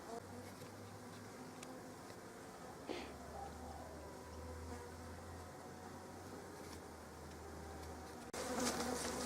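Honey bees buzz steadily and close around a nucleus colony hive, a dense continuous drone with a low hum underneath and a brief louder rustle near the end.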